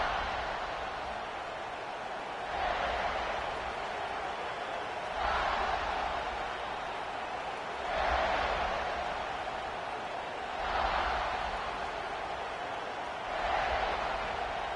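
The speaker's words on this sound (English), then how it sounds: "This crowd ready to make its presence known" Football stadium crowd roaring as the defense takes the field, a broad steady wash of noise that swells in regular surges about every two to three seconds, loud and distant-sounding with no clear voices.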